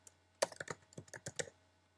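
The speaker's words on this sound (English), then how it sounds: "type in new category" Quick keystrokes tapped on a computer keyboard, about a dozen light clicks in a brief irregular burst, close and clear in a quiet room.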